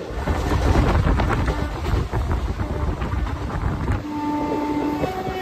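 The Teesta Torsha Express running at nearly 100 km/h, a continuous loud rumble and rattle of wheels and carriages heard from on board, with a faint tone appearing near the end.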